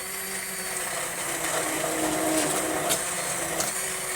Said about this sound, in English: get your blender in there, and we're just going to work it down